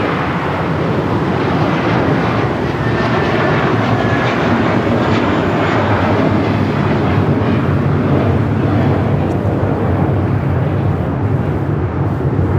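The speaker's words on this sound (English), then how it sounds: "That is American Airlines 2869 taking off in the A321." American Airlines Airbus A321 jet taking off at LAX, a loud, steady broadband roar of engines at full thrust sustained throughout without talk.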